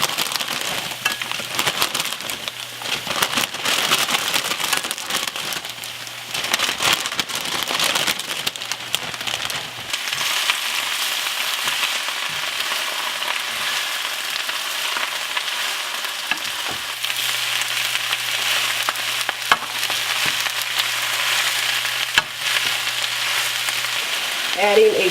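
Collard greens sauté in hot oil with red pepper flakes, a continuous loud crackling sizzle like heavy rain that runs the whole time, nearby and unbroken, with brief stirring knocks early on.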